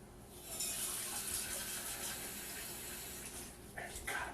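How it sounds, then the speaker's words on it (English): Water pours from a cup onto a cookie sheet in a kitchen, a steady close splashing that runs throughout and ends in a few brighter trickles. "could you get me a cup of water to put in this cookie sheet?"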